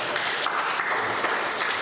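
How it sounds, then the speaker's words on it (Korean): A church congregation applauds in a dense, steady patter of clapping that fills the room for a couple of seconds. "우리 처음 예배 참석 박수 한번 박수 한번"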